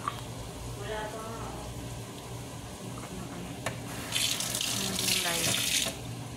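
Water runs steadily from a kitchen tap, growing louder and splashier toward the end, with faint background noise and some muffled voice.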